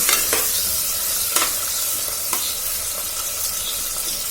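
Mutton biryani ingredients are mixed in a frying pan, giving a loud, steady sizzle broken by scraping strokes of the spoon. No one speaks.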